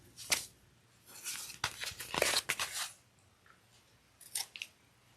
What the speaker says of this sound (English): going to trim up these little extra wings.